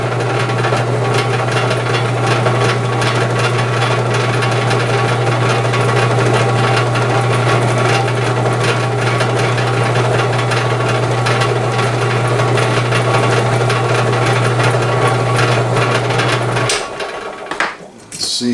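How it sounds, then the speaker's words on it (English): A hand file scrapes lightly on the front sight of a Pietta Spiller and Burr reproduction revolver. A continuous rasping grind sits over a low steady hum, then stops abruptly near the end. "we're going to use real light pressure here with our file"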